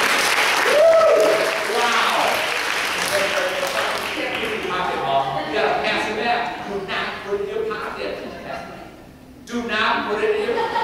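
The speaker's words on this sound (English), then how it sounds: "Give Kim a round of applause." Audience applause in a school talk on turning kids around, a broad sustained clatter of many hands that thins and fades, with voices and a chuckle mixed in.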